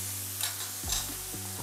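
Beef patty sizzling on a hot griddle, a close, steady frying hiss with a few scraping stirs or shifts, low hum underneath, brief and without voices.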